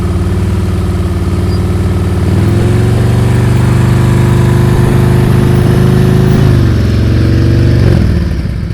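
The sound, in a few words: motorcycle engine during slow speed riding practice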